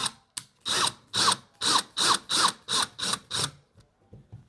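A screwdriver with a Phillips head bit drives a screw into a TV wall mount, making about ten rhythmic, close ratcheting bursts that end in a few softer clicks.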